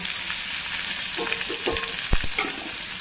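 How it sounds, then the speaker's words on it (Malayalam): Crushed shallots and curry leaves frying in hot oil for a papaya stir-fry, a dense close sizzle with a few soft stirring clinks and no voices. "അതിലേക്ക് നമ്മൾ കുറച്ച് ചെറിയുള്ളി വേപ്പിലും കൂടി ചതച്ചത് ഇട്ട് കൊടുത്തു മൂത്ത് വരട്ടെ"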